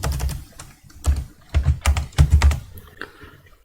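Quick bursts of keystrokes on a computer keyboard, typed in short uneven runs with brief pauses, close and clear, with no one talking.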